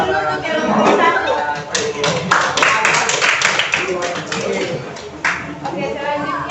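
Classmates clap for a student group after their presentation in an Islamic junior high history lesson, a short burst of close applause mixed with taps and chatter, with talking throughout.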